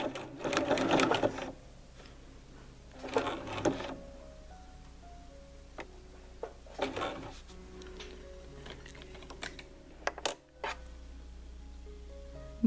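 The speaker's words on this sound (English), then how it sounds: "I'm going to sew around the edges with a zigzag stitch." Sewing machine running a zigzag stitch around appliqué edges on weaver's cloth, fast bursts of needle chatter in short runs with pauses between, close and fairly quiet, with small handling clicks between runs.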